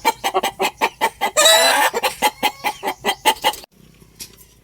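Several White Kelso and Gilmore crossbreed gamecocks cluck rapidly and repeatedly up close, with a brief rough crow in the middle, then silence.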